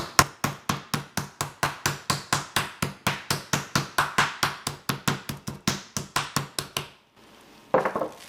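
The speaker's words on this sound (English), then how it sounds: "pound that down to about a 1/2 inch thickness. I've got a little pounder here." A small meat pounder beats a chicken breast flat to about half an inch thick. The blows come in a fast, steady run of roughly thirty sharp thuds, then stop, and a faint clatter follows.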